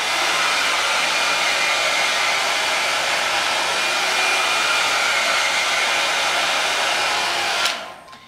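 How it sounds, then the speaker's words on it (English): Steady, continuous whir of a rotating hot air brush dryer running loudly and evenly, then cutting off abruptly near the end. "these here rotate the brush so that it gives that salon kind of blow dry finish"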